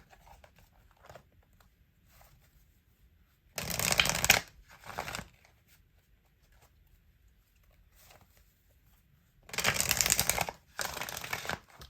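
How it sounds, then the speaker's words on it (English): Tarot cards are riffle-shuffled close by in two pairs of quick, crisp fluttering bursts separated by long quiet gaps, with no talking. "Okay, I already shuffled these."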